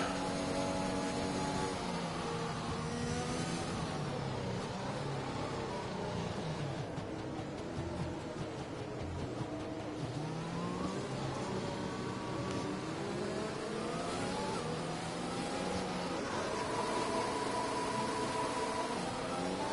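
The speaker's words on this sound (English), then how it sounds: "Trying to burn off some fuel there. That's why they use the high revs" F1 racing video game car revving its engine high to burn off fuel, a continuous whining drone with rising and falling pitch sweeps, steady and fairly faint, with no talk.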